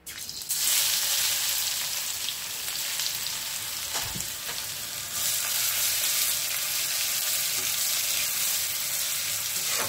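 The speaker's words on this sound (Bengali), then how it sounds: "আমি রসুনটা তেলের মধ্যে ভেজে নিচ্ছি" Crushed garlic sizzles steadily in hot oil, a loud continuous frying hiss with occasional stirring scrapes, close and alone with no voices.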